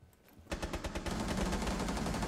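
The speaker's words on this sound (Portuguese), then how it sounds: "Tô atirando e o cara não morre também" Rapid automatic gunfire from Rainbow Six Siege erupts after a brief quiet start, with a dense, loud rattle of shots that stays steady through the end.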